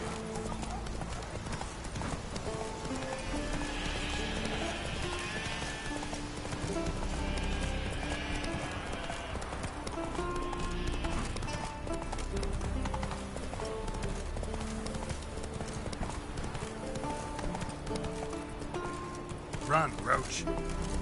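Horse hooves clip-clop at a steady galloping rhythm in The Witcher 3, with an occasional whinny and game music underneath. A voice speaks over the hoofbeats.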